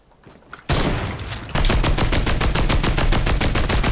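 A gun in Fortnite fires a single shot, then a rapid, steady burst of loud, close shots with no pauses between them.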